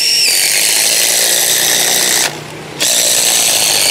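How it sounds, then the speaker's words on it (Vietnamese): A Kyocera cordless screwdriver drives a long screw with a loud, steady high-pitched motor whine that dips briefly near the end and then resumes, close up and alone. "Bắn vít dài cho anh chị mình coi nha."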